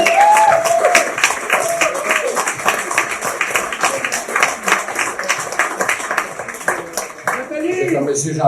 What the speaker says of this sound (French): J'aimerais ça qu'on les applaudisse tous.